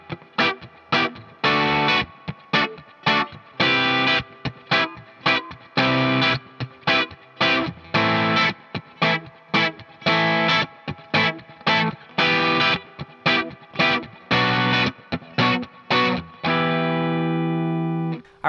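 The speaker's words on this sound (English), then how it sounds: "for this verse progression here, we're playing the same thing as we do in the intro chord-wise, but we're changing up the rhythm a little bit" Electric guitar plays choppy, funky rhythmic chord stabs for the verse of a song through a distorted effects tone, tight muted gaps between strums, ending on a sustained ringing chord.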